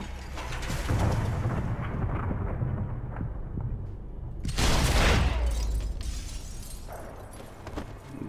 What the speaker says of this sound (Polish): Dwa strzały mi były potrzebne jednak.